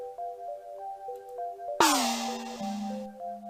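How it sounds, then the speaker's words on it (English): Small gong struck once in Woodruff and the Schnibble video game, a bright metallic crash that rings and decays over about a second, set against a looping chiming melody. "Small gong."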